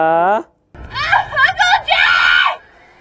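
A short high cry breaks off, then a longer shrill scream wavers in a few bursts, loud and close.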